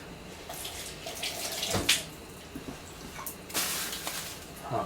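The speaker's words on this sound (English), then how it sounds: "take a little bit of cold water on our fingertips and spatter it on the surface of the sand, and it should sizzle and dance" Cold water flicked from fingertips onto very hot sand hisses and sizzles in short bursts with a few sharp spatters, close and fairly quiet, and no voices.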